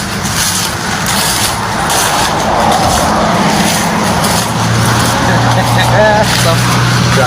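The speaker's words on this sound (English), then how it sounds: "Vehicle still running." A vehicle engine idling and running steadily on a street, a continuous moderate rumble with a brief higher whine near the end, under background talk.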